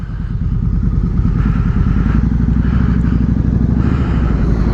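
A 2006 Harley-Davidson Night Rod motorcycle rides around town, its engine a steady, loud, close rumble with a pulsing low throb and light mechanical clatter, unbroken for the whole stretch.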